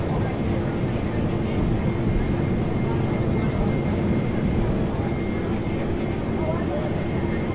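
Aircraft engines roar at full takeoff throttle in a flight simulator game, a dense steady drone filling the whole stretch without a break, with a voice talking underneath.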